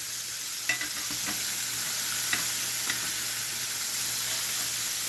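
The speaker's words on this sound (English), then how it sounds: "As soon as this sears up a little bit more, I'll flip it over" Chicken breast sears in a skillet with a continuous loud, close sizzle, and a few light scrapes and taps come through as the meat is moved.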